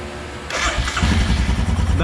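A Royal Enfield Himalayan motorcycle being cranked during a garage service, with a whirring starter followed by the engine catching into a rough, throbbing idle, close by.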